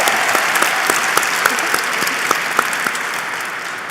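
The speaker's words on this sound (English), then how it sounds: "Round of applause for that category." Audience at an ergonomics awards ceremony applauding a category, a steady wash of clapping from a moderately sized crowd, with individual claps standing out close by, and no talk over it.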